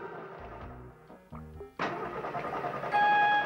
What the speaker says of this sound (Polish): Koparka nie chciała odpalić.